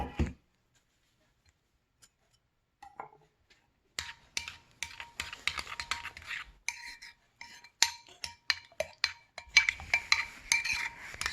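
Spoon clinking and scraping in a bowl while stirring extra ingredients into homemade pizza sauce: after a quiet start, a run of close, irregular clicks and scrapes, with no talk.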